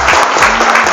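A seminar audience at a polytechnic campus in Jakarta applauding: dense, loud, continuous clapping close by, with no voices over it.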